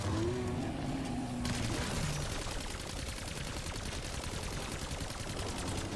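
Rapid automatic gunfire in Call of Duty rattles on in a dense, steady stream of shots that covers most of the stretch, loud and continuous, with a faint tonal sound early on.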